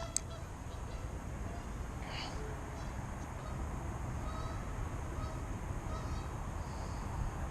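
Geese squabbling by an urban pond give scattered honks, distant and fairly faint, spread out over a constant wind-like outdoor rumble.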